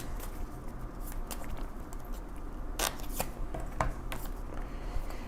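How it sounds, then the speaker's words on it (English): Crisp riffling and snapping of tarot cards being shuffled, a few sharp bursts over a steady, faint background hum. "I forgot to shuffle"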